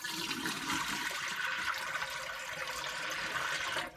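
Starchy rice-rinsing water poured out of a pot in a kitchen, a steady rushing splash of liquid that runs continuously for about four seconds before tapering off.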